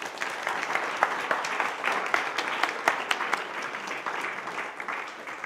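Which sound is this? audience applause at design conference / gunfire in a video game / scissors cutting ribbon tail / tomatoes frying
audience applause at design conference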